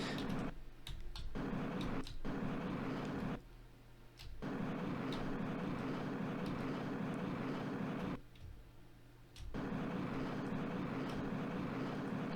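A spaceship's thrust exhaust in a Unity Asteroids game gives a loud, steady roaring hiss that runs continuously and cuts out twice for about a second each time.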